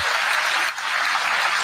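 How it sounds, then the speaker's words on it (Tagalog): Congressmen applauding in an assembly hall, a dense, loud, continuous wash of clapping from many hands that dips briefly in the middle and carries on. "Humina ang palakpak ng mga congressman ah."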